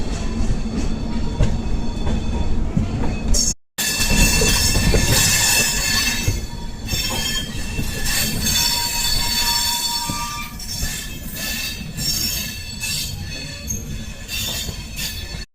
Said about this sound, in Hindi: अब हम लोग इसको ही ओवरटेक करेंगे जो आप आगे EMU देख रहे हो